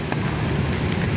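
Heavy rain pours steadily at the Esplanade by the Pasig River near Lawton Ferry Station, a dense, continuous loud hiss with no breaks.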